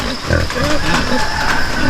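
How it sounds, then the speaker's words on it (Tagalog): Free-range pigs grazing on grass at a farm, giving a scattered series of low grunts and squeals over a steady outdoor background, fairly close but mixed with ambient noise. "So, ayan yung mga baboy natin ngayon, no? Kumakain ng mga damo dyan."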